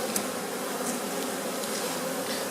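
Honey bees buzz around an opened hive during an October flow-frame honey harvest, a dense, continuous close swarm drone with no talking.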